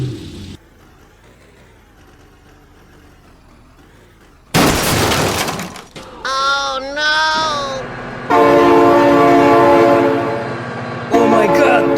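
Train in the BeamNG.drive driving game: a loud train horn blast rings out with sliding tones and a crash-like burst, followed by a sustained blaring horn chord, with a voice exclaiming faintly early on.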